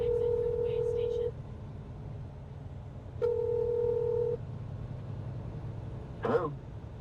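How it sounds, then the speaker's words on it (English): Telephone being dialed from a car, a steady tone held for about a second, then after a pause another similar tone, over low engine hum, ending with a brief clicking burst. "Let me dial him."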